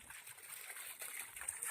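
Water pours steadily out of a pipe outlet into a soybean farm field, a continuous hissing, splashing flow heard alone at a modest, even level.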